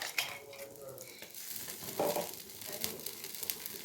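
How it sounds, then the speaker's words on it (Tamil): Kara dosa batter cooking on a hot stone griddle, a soft, low sizzle with faint scraping as chutney is spread across it, quiet and close. "இப்போ நம்மளோட கல் சூடாக இருக்குது. இதில் ஒரு தின் லேயரில் ஒரு தோசை சுட்டுக்கலாம்."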